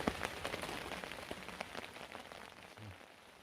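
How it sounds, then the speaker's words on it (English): Heavy rain drums steadily on a tarp in a winter woodland camp, a dense patter of close drops with no voices. "It's chucking it down with rain."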